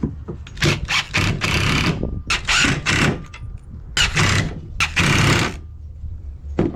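Power drill driving 1.5 inch screws into soft 2x4 construction lumber, loud close whirring bursts in quick repeated pulses, each rising and stopping abruptly.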